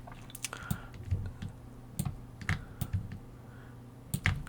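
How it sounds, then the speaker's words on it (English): A computer keyboard's Shift key and other keys click in a quiet room while sketching shapes, with irregular light taps scattered across a few seconds and no voices. "again press Shift on your keyboard"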